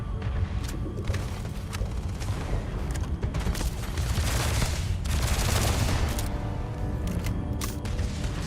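Sustained gunfire in the space game Starfield, a dense, continuous rattle of rapid shots with heavier bursts near the middle, loud and close, filling the whole stretch.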